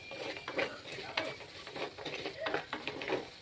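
Green chillies with salt frying in a pan, with a soft sizzle and repeated scraping stirs of a spatula, fairly quiet and close.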